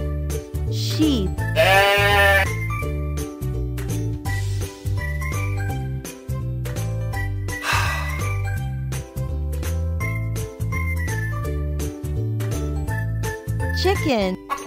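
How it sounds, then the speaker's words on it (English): Sheep bleat a few times, wavering and nasal, set against a cheerful music track with a steady beat and jingles. "Sheep."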